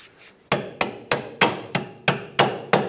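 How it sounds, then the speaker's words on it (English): Eight sharp, evenly spaced hammer blows, loud and close, drive a bolt through a rear upper control arm bracket on a 2012–2020 Ford Focus, each strike ringing briefly before the next. "drive your bolt through"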